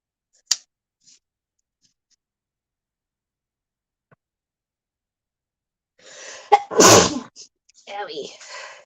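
One loud, sharp sneeze bursts out close to the microphone after a long quiet stretch, with soft breathy vocal sounds around it.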